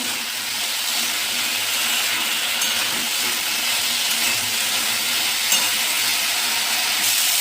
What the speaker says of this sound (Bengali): আমি এটাকে ভালো করে কষিয়ে নিচ্ছি